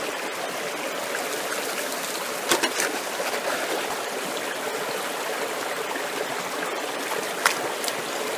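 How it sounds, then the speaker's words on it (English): A bucket of gravel washes through a gold sluice while hunting placer gold in Wicklow, a steady rushing hiss of flowing water with a few brief knocks and splashes, nearby and continuous. "So let's just run through the next bucket."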